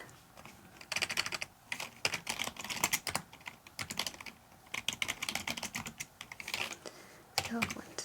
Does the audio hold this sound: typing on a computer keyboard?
yes